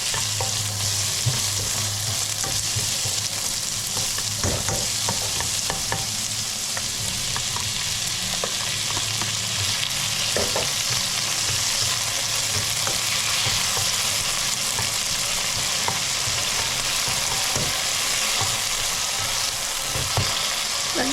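Garlic and onion sauté in a hot pan with a steady, loud sizzle that runs throughout, broken by intermittent clicks and scrapes of stirring and no talking.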